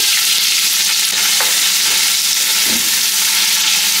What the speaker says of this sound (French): Là, je vais faire revenir mes oignons.